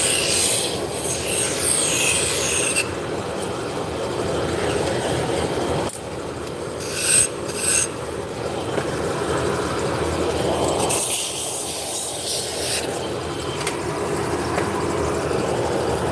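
A wood lathe turns a spindle while a spindle gouge cuts it, giving a steady, rough, rushing cutting noise throughout with a few brief shifts in tone where the tool's contact changes.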